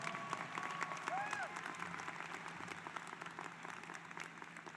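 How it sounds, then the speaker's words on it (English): The audience at a spring graduation ceremony applauds in a large hall, a sustained, fairly distant roar of clapping with a faint tonal ring heard briefly near the start. "if we can give a big round of applause again for Christopher Rodriguez"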